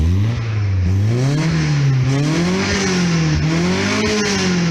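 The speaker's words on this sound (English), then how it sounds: "I'm just going to give you a bit of a listen to the Rorty exhaust" Loud, close exhaust note of a 1969 Datsun 510 with a cheap second-hand 2-inch exhaust, revving up and down in repeated rising and falling swells for the whole stretch, with no talk over it.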